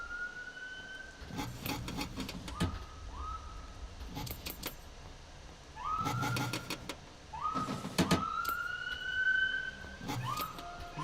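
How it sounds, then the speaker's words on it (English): A police siren outside gives short, intermittent whoops and chirps that start and stop, mixed with scattered clicks and clatter. Nobody speaks. "The police siren out there can't figure out if it wants to speak or not."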